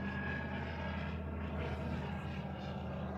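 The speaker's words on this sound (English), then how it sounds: "Just watching the planes go by." Steady drone of an aircraft engine passing overhead, a continuous low rumble with tonal hum that stays loud and even throughout, with no talking.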